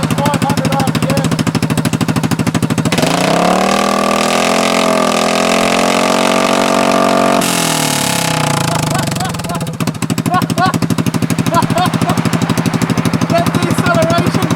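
A Kymco Downtown 300i scooter fitted with a Delkevic exhaust idles with a rapid, popping putter, then revs up hard into a loud, sustained drone before dropping back to idle, with a voice speaking over it.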